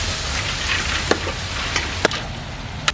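Cabbage and onion fry in a hot pan, a steady close sizzle with a few sharp crackles and pops breaking through, no voices over it.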